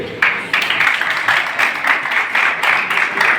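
Steady crowd applause at a youth games closing ceremony in Bikaner, with many hands clapping in a rhythmic, pulsing pattern that holds loud and even throughout, with no speech over it.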